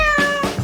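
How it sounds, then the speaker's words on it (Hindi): A cat gives one loud, close meow, a short rising and falling cry with no voices over it. "इस बार तुम्हारा पुरस्कार एक प्यारी बिल्ली है।"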